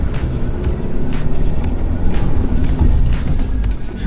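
A 2024 Isuzu D-MAX pickup engine runs loud and close, revving steadily as it makes a U-turn on sand, with a continuous rumbling drone and light rushing noise and no talk.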